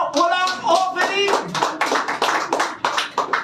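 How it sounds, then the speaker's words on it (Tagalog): A handful of people clapping in a church during a sermon, a short burst of sparse, uneven claps close by with a voice speaking over and between them. "Salamat sa apat na pumapalakpak."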